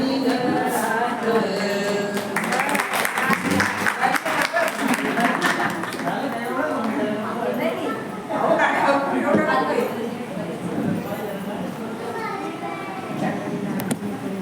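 Guests at a baby shower in a banquet hall clap and chatter, with children's voices mixed in. The clapping comes in bursts over a steady hum of talk and bustle.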